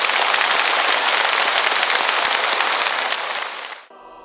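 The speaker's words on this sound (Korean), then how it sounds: "박수 한번 쳐드릴까요?" A large crowd at a Catholic Mass marking the 70th anniversary of the Legio Mariae in Korea applauds in a thick, continuous wash of clapping. The applause holds steady and then cuts off abruptly near the end.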